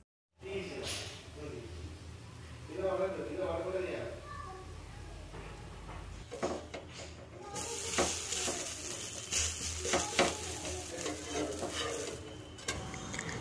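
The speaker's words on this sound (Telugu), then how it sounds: "ఒక పక్కన కడాయిలో పల్లీలు, మిర్చి అయితే చట్నీ కోసం వేస్తున్నాను" Peanuts and chillies frying in a kadai for chutney, a soft sizzle with clinks and scrapes of a utensil against the pan while a voice talks over it, the frying growing brighter midway.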